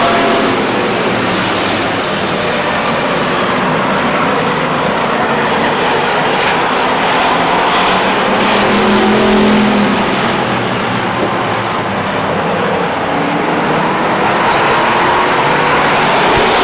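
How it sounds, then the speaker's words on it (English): Stock cars race on the Stockton 99 Speedway track with a loud, continuous roar of engines that swells and fades as the pack passes, heard from the stands with no speech. "Going on that racetrack out there with the 40 car and the 78 car."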